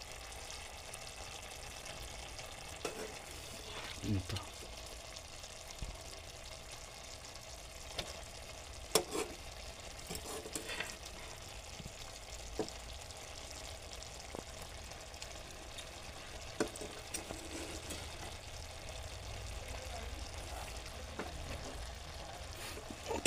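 Cooked rice is stirred into hot vegetables in a pan for vegetable khichdi, a soft sizzle under scattered scraping and stirring clicks throughout, no voices.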